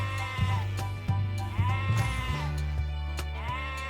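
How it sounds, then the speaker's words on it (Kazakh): A young goat bleats several times in quick succession, close and fairly loud, each call wavering before the next begins, as part of a children's puppet show about farm animal sounds. "Лақ, ол бізде лақ."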